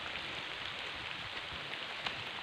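Heavy rain falls in a steady, dense broadband wash during a roadtrip through Bulacan, continuous and loud with no gaps and no voices.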